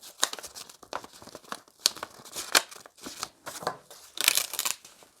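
Paper or craft material crinkling and rustling close by as it is folded by hand, in short irregular crackling bursts.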